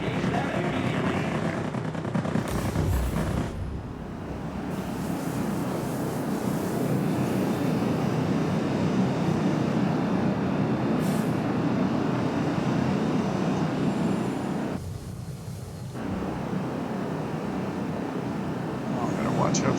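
Warplane and bomber squadron engines in World of Warplanes, a continuous droning roar with a broad rumble, steady and close for most of the clip with brief dips, a voice talking over it at times.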